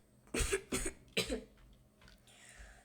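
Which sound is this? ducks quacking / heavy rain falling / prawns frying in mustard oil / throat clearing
throat clearing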